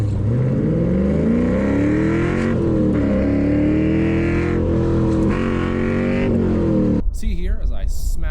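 A BMW M3 race car on a track, engine droning loudly and steadily with rising and falling pitch as it brakes hard and turns, then cutting to a brief broken burst near the end.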